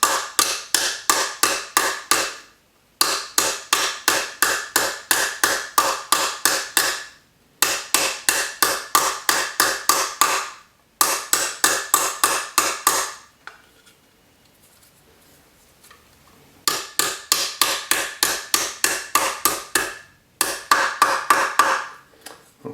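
A metal synclastic cuff bracelet is struck with a hammer in rapid, steady series of sharp taps, broken by short pauses and one longer gap, close and clear with no talking.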